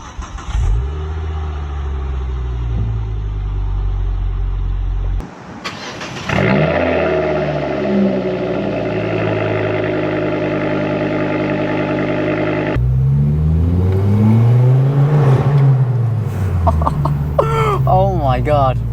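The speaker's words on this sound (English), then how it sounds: "we basically now have a full 3" CatBack that's straight" A Ford Focus ST225 with a 3-inch straight catback exhaust starts up, idles with a deep burble, then revs and pulls away loudly, the tone rising and falling close by, with people talking over it.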